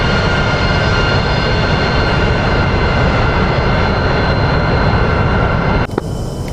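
A jet aircraft roars steadily on takeoff in the DCS flight simulator during a 2007 Operation Orchard reenactment, a loud constant engine rumble with a whine on top that cuts off abruptly near the end.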